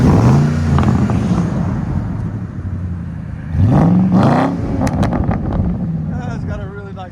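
A 1999 Ford F-150 with a 5.4L Triton V8, true dual exhaust and Cherry Bomb glass packs revs loudly twice, a rising engine roar near the mic with a steady idle rumble between the bursts.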